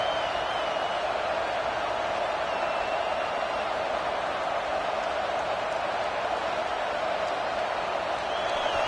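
College football stadium crowd at the Auburn vs Alabama Iron Bowl game, a steady, dense roar of noise with a commentator talking over it throughout.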